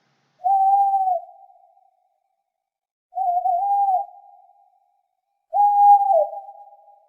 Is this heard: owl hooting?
yes